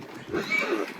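A mare gives a short, breathy whinny at moderate distance, rising and fading within about a second.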